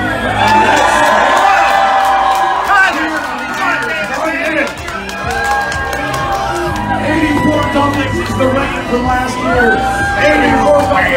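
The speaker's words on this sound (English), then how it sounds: "Can you guys cheer for a minute?" Loud crowd cheering, whooping and shouting at a dumpling eating championship, a dense sustained roar of many voices with an announcer talking over it throughout.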